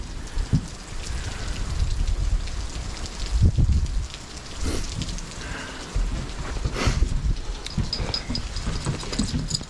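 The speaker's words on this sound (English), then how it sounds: "Here's the rain." Steady rain patters and splashes on a nearby surface at a wooded homestead cabin, with louder bursts of drops and low rumbling underneath, continuous throughout.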